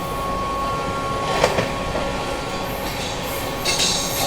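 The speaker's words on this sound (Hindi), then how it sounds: "वो देखो वहाँ लगी है वो ट्रेन" A train rumbles at a station platform, heard from the Vikramshila SF Express near Tundla: steady rail noise with a few brief squeals and clanks from the wheels, mid-distance, with no voices.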